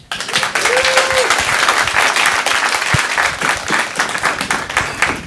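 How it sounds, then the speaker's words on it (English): An audience applauds at an arts and culture stage event, steady dense clapping that starts almost at once and holds loud and even for about five seconds, with a brief voice or cheer near the start. "Can I get a round of applause?"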